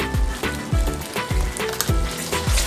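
Dry spices sizzling in hot oil in a pan for smoky paneer angara curry, crackling steadily with repeated scraping stir strokes in an uneven rhythm, close and clear with no talking.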